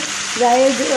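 Close, steady sizzling of raw minced-meat balls frying in a pan over a moderate flame, a bright hiss with a voice murmuring over it partway through.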